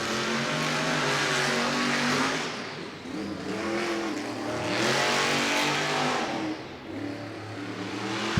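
Monster Jam truck Rage in a stadium semifinal race in Orlando, with its engine roaring under rhythmic throttle revs, loud and close, rising and falling in repeated surges over continuous crowd and arena noise.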